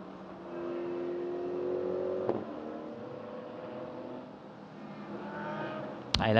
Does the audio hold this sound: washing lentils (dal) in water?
no